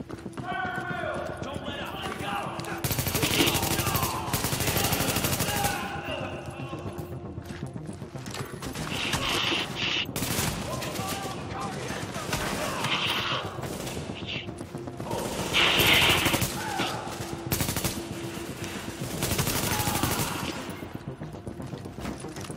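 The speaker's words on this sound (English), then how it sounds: "Reporting gunfire in the station above us." Gunfire rattles in The Division, sharp bursts and volleys cutting through a busy game mix while voices talk over the shooting.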